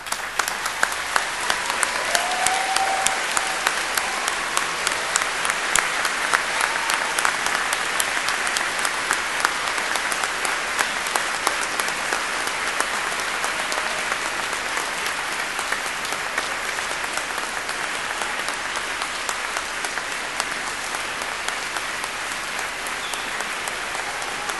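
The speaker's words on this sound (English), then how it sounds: "giving them all an enthusiastic round of warm applause" Graduates at a Cardiff University graduation ceremony give a long, enthusiastic round of applause for family and friends, a hall full of steady clapping that holds strong and slowly thins toward the end.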